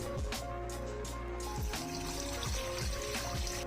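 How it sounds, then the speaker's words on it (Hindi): A glass of water is poured into a kadhai while garlic goes in for a chicken curry. Water trickles and splashes steadily and fairly softly for several seconds at close range, with faint kitchen clatter underneath. "इसे मैं डाल दूँगी कढ़ाई में और इसके साथ ही मैं डाल दूँगी 1 गिलास के जितना पानी"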